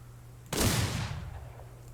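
A single close gunshot from a ball-ammo firearm in the game Outlaws of the Old West cracks sharply, then a brief rumbling decay fades out over about a second.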